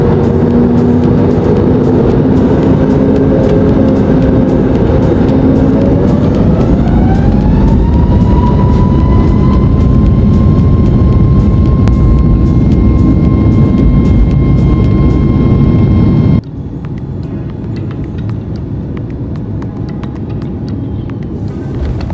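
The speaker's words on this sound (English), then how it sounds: "As I took off from Doha" Inside the cabin of a Boeing 737 MAX taking off from Doha, a loud, constant jet roar is joined by a whine that rises in pitch as the engines spool up, then the noise drops to a lower steady hum.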